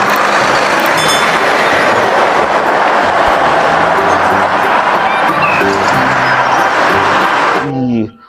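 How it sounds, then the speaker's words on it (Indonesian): A train rolls past with a dense, steady roar of wagons and rhythmic wheel clatter, loud and close, with a squeal near the end as it fades abruptly; a voice speaks over it. "Wih, selanjutnya, wah, ada kereta api, teman"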